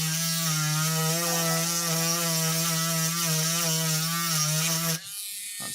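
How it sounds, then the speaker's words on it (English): An aggressive grinder cuts through copper traces on a Game Gear VA4/5 circuit board, a loud, steady high-pitched whine that holds for about five seconds and then stops abruptly. "I'm going to use my super aggressive grinder"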